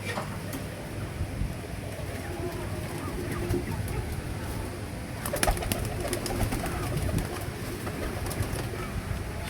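Pet pigeons coo softly in a pigeon house, low repeated cooing amid a steady rustling background, with faint voices nearby.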